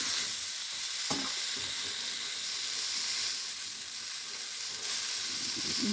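Fish curry with ridge gourd cooking in a pan, a steady loud sizzle and hiss of frying with occasional stirring clinks, no talking.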